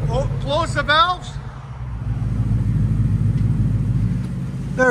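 Ford Mustang GT idling with its aftermarket exhaust valves closed, producing a low, steady, quiet rumble; a voice speaks briefly at the start before the subdued drone continues alone.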